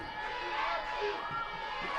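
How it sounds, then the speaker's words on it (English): A women's football crowd in an L1O Cup match between Pickering and Hamilton United keeps up a steady murmur of shouts and noise as a penalty taker steps up. "The crowd trying to distract Orfe."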